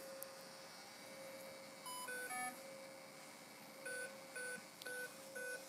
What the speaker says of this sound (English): Wait for your four tones to tell you it grabbed it